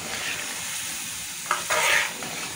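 Spinach and boiled toor dal are mixed into a spiced masala in a pan, a steady soft sizzle broken by two or three sharp spoon scrapes near the end, close and with no speech.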